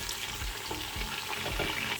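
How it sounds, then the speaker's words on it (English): Locust beans sizzle softly in a hot pan, with a few scraping stirs and light clinks over a quiet, steady crackle. "I'm just going to fry this for about 1 minute 30 seconds as well"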